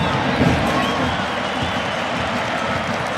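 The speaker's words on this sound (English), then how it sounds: "The crowd applauding Boyd Okwuonu over there as he battles Bessa along the far sideline." A stadium crowd at a Real Salt Lake versus Inter friendly football match gives a broad, steady roar of applause and murmur, spread wide and distant, with no clear individual voices.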